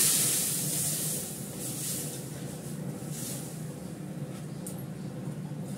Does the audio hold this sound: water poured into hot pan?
yes